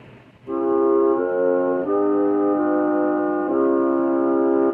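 A sustained 8-foot organ stop tone from a Korg Kross synthesizer plays a slow sequence of held chords, each change clean and steady, loud and alone with no voices.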